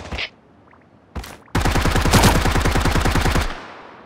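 Gunfire in the video game Sausage Man: two brief shots, then a loud, rapid automatic burst of about two seconds with steady rhythmic pops, close and clear, ending abruptly.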